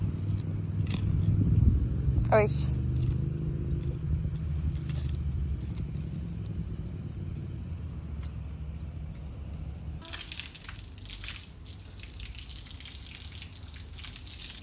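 Car keys jangle in a quick metallic burst close by against a low background hum, followed by quieter household clatter and running water. A voice briefly exclaims.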